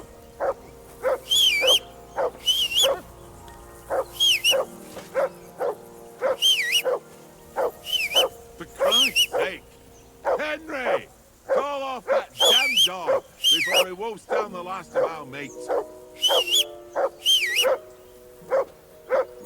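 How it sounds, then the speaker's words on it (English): A dog in the video game Kingdom Come: Deliverance II barks repeatedly in sharp, evenly spaced bursts, loud and close, with whimpering and growly vocal sounds in the middle stretch. "call off that mutt of yours"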